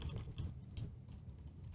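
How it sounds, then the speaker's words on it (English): A computer keyboard has its Q key pressed a few times while a game level is built, giving soft, quiet clicks against a low background hum. "I'm pressing the Q key"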